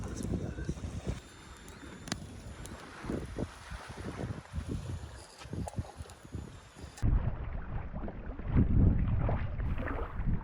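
A canoe paddled on the Mississagi River during a remote backcountry camping trip, with a steady wash of water and wind buffeting the microphone and irregular splashing strokes close by.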